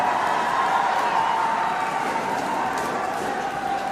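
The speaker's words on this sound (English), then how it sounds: "You can hear the cheer around the ground." Distant crowd cheering carries as a steady broad roar around a sepaktakraw venue during an international match, sustained and fairly loud with a tonal hum running underneath.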